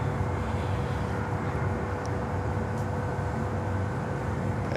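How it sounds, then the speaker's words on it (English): An American Airlines Boeing 737-800 arrives at Miami airport. Its jet engines make a loud, continuous roar and rumble that holds steady throughout. "And next arrival here, American Airlines 737. 800."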